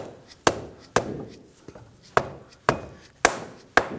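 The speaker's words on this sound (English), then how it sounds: "you can use a dead blow hammer. Go ahead and tap this." A dead blow hammer strikes a front CV axle on a 2011-2015 Kia Sorento in seven sharp, evenly spaced taps, each a solid thud with a short ringing decay.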